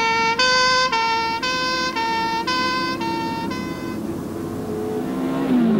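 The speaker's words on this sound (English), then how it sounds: "The ambulance is bunching up all the sound waves in front of it so the note is higher." An ambulance siren sounds loud and close, its two-tone wail stepping evenly up and down several times before fading, with the pitch sliding lower at the end as it passes.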